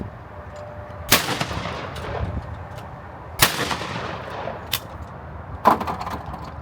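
Shotgun blasts at sporting clays targets on a field course, four sharp reports spaced a second or two apart, loud and close with outdoor echo between them and no talking.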